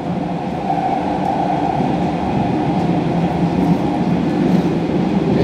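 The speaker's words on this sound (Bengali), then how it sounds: "আপনারা দেখতে পাচ্ছেন ড্রাইভার ছাড়া ট্রেন চলতেছে।" A driverless underground train on Rome's new Metro C line runs at speed, a loud, steady rumbling roar heard from inside the carriage with faint rhythmic wheel clatter.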